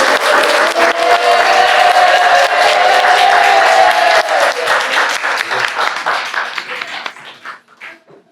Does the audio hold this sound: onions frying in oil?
no